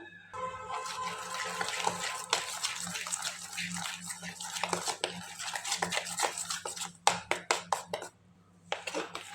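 Vanilla cake batter is stirred with milk in a bowl, a close, busy run of wet sloshing and scraping strokes with rhythmic clinks of the utensil against the bowl, continuing steadily and pausing briefly near the end.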